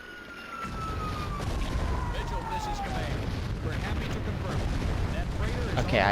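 Explosions rumble through a Ghost Recon 2 battle on GameCube, with deep booming blasts layered over continuous rumbling and a falling whistle-like tone, steady and fairly loud throughout.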